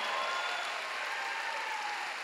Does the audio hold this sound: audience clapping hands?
yes